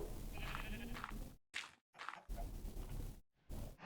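Sheep in Minecraft bleat several times in short cries, broken by moments of silence, fairly close and clear.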